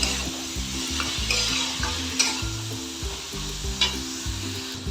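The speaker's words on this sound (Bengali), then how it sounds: "এবার আমি ভালো করে এটাকে কষিয়ে নেব।" Boiled banana stem stir-fried in a pan, a close continuous sizzle with regular scraping strokes from a spatula repeating throughout, with no voices.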